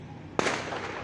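A single firecracker pops at middle distance the day after the San Juan festival in Spain, a sharp bang trailing into a noisy outdoor wash.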